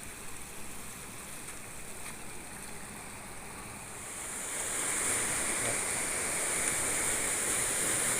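Storm floodwater rushes past a bridge in Thailand's Isan region, a continuous broadband roar that swells louder midway and stays steady, with no voices.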